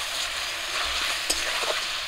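Chicken pieces frying in a pan with salt and turmeric, giving a steady close sizzle with light stirring scrapes and one sharp clink partway through, no voices.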